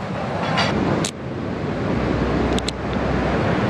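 High surf crashes steadily on Batu Hiu beach at Pangandaran, a dense roar of breaking waves that fills the whole stretch, with strong wind buffeting the microphone and no voices.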